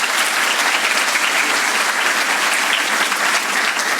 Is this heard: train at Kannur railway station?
no